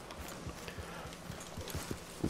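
Horse hooves clip-clop in the game Red Dead Redemption 2, a steady rhythmic trot of soft thuds at moderate distance over low ambient background, getting a little louder and denser near the end.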